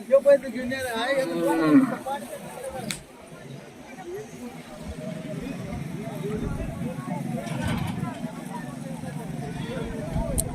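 Bullocks low near the start amid a busy crowd of voices talking over steady background hubbub at a cattle market in Beed district.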